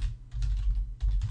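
Typing on a computer keyboard, a quick close run of clicking keystrokes in uneven bursts with a brief pause, loud and alone with no voices.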